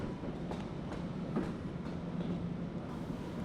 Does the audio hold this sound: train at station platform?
yes